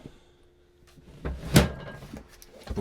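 A drawer full of art materials pulled open aboard a narrowboat, a close wooden slide and clunk peaking midway with a smaller knock at the end, no talking.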